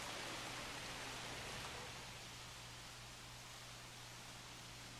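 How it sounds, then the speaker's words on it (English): Steady hiss of rain in the park-building game Jurassic World Evolution, a loud, continuous wash that eases slightly after the first two seconds, with a low constant hum underneath and no talking. "rain, it's really loud in my headset"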